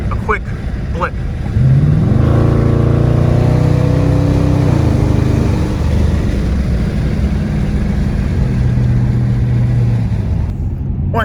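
A 2017 Dodge Challenger R/T with a 5.7L V8 gives a single quick rev blip through an open window, the engine rising sharply then settling back to a loud, rumbling idle; no talking.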